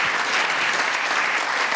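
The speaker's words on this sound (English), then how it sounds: "Can we have a huge round of applause for Steve?" A live audience at a stage show gives loud, dense applause, a continuous close wash of many hands clapping at once.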